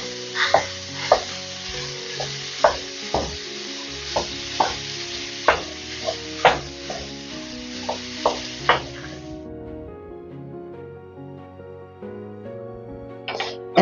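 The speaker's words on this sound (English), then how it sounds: "When the pan is nice and hot, I'm going to add in the ground beef. And then I'm just going to break it up" Ground beef frying in a hot pan for Mexican pizza, a steady broadband sizzle with repeated sharp spatula scrapes and taps as the meat is broken up; the sizzle cuts off near the end, leaving low hum.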